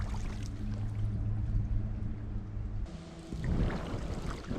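Paddling a Native Watercraft Falcon 11 kayak at an easy pace, with steady close water swishing and dripping from the strokes, a louder splashy stretch near the end.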